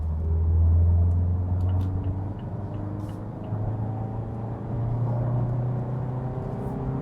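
A VW compact SUV with a naturally aspirated engine pulls in third gear from 60 to 100 km/h, a steady droning engine hum that rises slowly in pitch, heard from inside the cabin with no speech.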